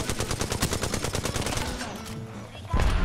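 Video game gunfire: rapid automatic fire in a fast steady burst, loud and close, then a pause before another heavy shot or grenade blast at the end.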